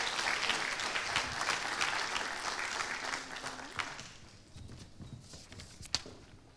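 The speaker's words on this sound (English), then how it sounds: "So please welcome her with all your applause with me." Conference audience at a security event claps to welcome a speaker, a moderate burst of applause that fades after a few seconds into quieter room noise with scattered footsteps.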